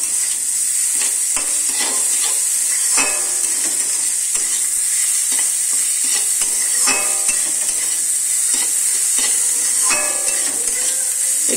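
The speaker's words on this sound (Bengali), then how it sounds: "একটু মিশিয়ে ভালো করে ভাজা ভাজা করে নেব।" Soya chunks stir-fried in a pan for veg chilli chow mein, giving a steady bright sizzle with repeated scraping clinks of a spatula against the pan throughout, close and alone.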